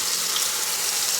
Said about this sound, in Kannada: ನೀರು ಹಾಕ್ಕೊಳ್ಳಿ, ಎಷ್ಟು ಬೇಕೋ ಅದನ್ನು ನೋಡಿಕೊಂಡು ನೀರು ಹಾಕ್ಕೊಳ್ಳಿ.